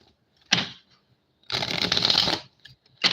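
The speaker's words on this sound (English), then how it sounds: "let me shuffle it again" Tarot cards being shuffled in three separate bursts: a short riffle, a longer crisp flutter lasting about a second, then a brief final burst, close and clear with quiet gaps between.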